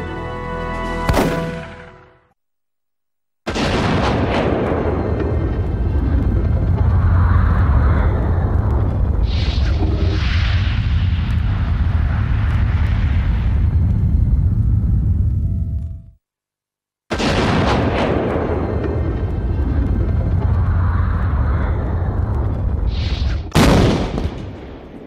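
Shotgun blasts, the weapon once chosen by frontiersmen and soldiers, boom loud and close in a few big reports with long rumbling decay, separated by brief silences, with no talk.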